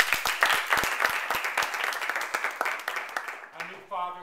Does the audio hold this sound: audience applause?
yes